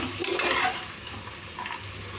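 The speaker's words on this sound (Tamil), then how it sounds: "தேவையான அளவு உப்பு போட்டுட்டு ஒரு கிளறிக்கலாம்" Vegetable biryani is stirred in a pot after salt goes in, two short scraping swishes of a spoon against the pot over a faint low background.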